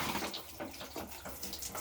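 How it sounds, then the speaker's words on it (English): Water drains out of household plumbing during a repair, giving a steady, faint gurgling wash with soft rhythmic surges and no talk. "Make sure all the water drains."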